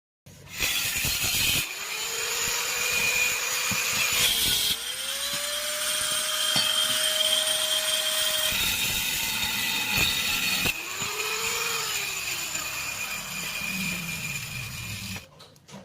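A power tool cuts through a pulley for a homemade peanut grinder, a loud steady whine with a rising pitched tone that shifts as the blade bites, running continuously with brief changes in load and no talk.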